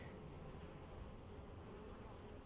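Honey bees buzz in a dense, continuous drone at a hive, a steady hum filling the air with no pauses.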